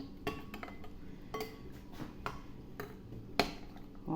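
A spoon stirs a tablespoon of sifted flour in a bowl, scraping softly with irregular clinks of metal against the bowl's side.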